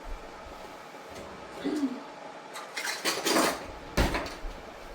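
Dishes, pots and cutlery clatter and clink in a short burst of rummaging as someone searches kitchenware for a measuring cup while baking bread, with a few louder knocks near the end.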